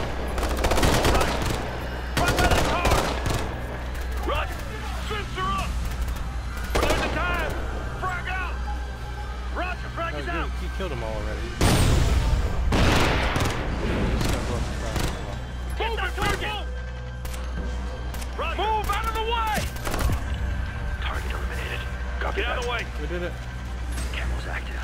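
Distant gunfire in the tactical shooter game Ghost Recon Future Soldier, scattered bursts and volleys rattling far off behind ongoing voices and game ambience across the whole stretch.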